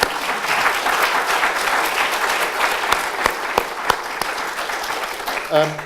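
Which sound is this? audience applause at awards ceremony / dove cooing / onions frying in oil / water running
audience applause at awards ceremony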